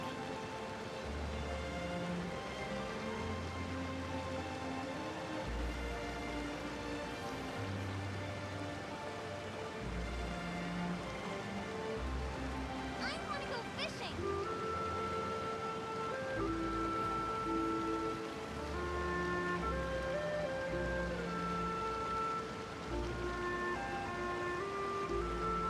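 Steady rain falls throughout in the video game Genshin Impact, a soft continuous hiss that stays even and close, with musical tones playing alongside it.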